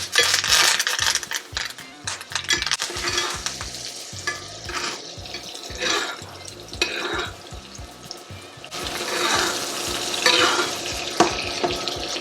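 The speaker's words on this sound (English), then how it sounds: "And then we're just gonna baste in the pan." Steak basting in a hot pan with butter and thyme gives a steady, close sizzle, with repeated spoon scrapes and clinks as the fat is ladled over, growing louder toward the end.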